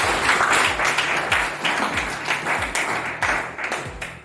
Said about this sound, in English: I want us to give them big hands of applause.